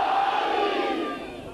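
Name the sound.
crowd chanting the Naara-e-Haidari slogan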